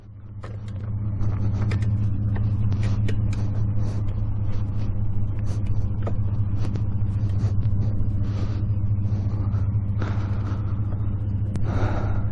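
A Kawasaki KX420 dirt bike being bump started, its 420cc engine catching and settling into a loud, continuous low rumble with occasional mechanical clicks and clatters over the top.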